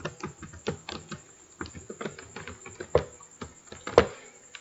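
A password is tapped out on a computer keyboard, with quick, uneven keystrokes close by in a quiet room, a couple of louder key hits near the end, and no talk.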